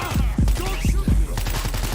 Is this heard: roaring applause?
no